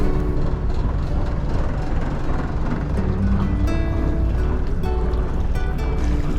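Marine engine on a sailing catamaran idling steadily, a continuous close, loud low drone with mechanical clatter and a faint tonal hum throughout, no talk.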